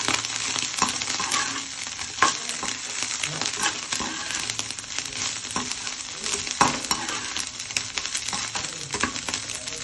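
Pieces of fish and fish heads sizzle loudly in hot oil in a pan, with steady frying crackle and repeated scraping stirs close up throughout.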